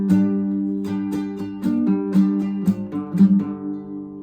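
Acoustic guitar riff, played alone and close: picked notes with pull-offs over ringing low strings, steady rhythmic phrasing, ending on a sustained fading chord.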